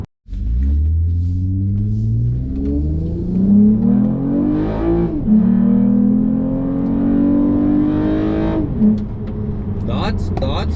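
A tuned Toyota Camry accelerates hard, engine pitch climbing through each gear and dropping sharply at two upshifts, loud and close from inside the cabin, with a brief voice near the end.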